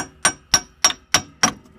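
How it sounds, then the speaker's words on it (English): A hammer strikes a rear lift block into place on a Jeep Cherokee XJ, giving five sharp metallic clangs at an even, quick rhythm. Each clang is loud, close and rings briefly. "at this point, the hammer seems to solve it"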